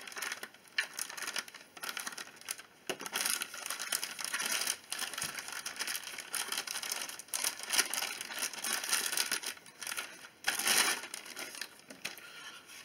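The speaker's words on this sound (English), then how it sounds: "let's just cut out this plastic" Clear plastic packaging of a Tamiya CC-01 VW Amarok RC car kit being cut and pulled apart, a steady run of close crinkling, crackling and snipping with sharper louder crunches near the end.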